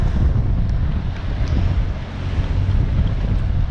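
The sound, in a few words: wind at sea on single-handed sailing boat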